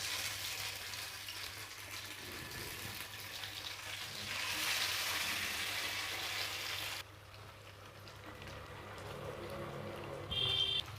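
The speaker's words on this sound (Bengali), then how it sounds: "তেলটা গরম হয়ে গেছে, আমি এবার পাবদা মাছ ভেজে নেব।" Pabda fish frying in hot oil in a home kitchen gives a steady sizzle that swells as the pieces go in, then quietens when the pan is covered, with a clink near the end.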